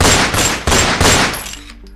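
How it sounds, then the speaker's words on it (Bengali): Several gunshots ring out in quick succession, loud, sharp cracks, one after another, with the last fading into quiet. "শুনতে পাই 5-5টা গুলির শব্দ"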